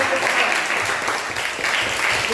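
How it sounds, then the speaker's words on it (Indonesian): Students in a classroom clap for their classmates during a school lesson: a steady, dense wash of applause that fills the whole moment at a fairly even loudness. "beri tepuk tangan untuk teman-teman kita ini"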